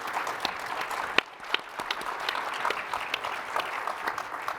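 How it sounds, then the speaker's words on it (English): An audience at a panel discussion on workforce development and higher education claps steadily for its panelists. The applause is a moderately loud, even patter of many hands with a few sharper individual claps, and no one speaks over it. "So can I have a round of applause,"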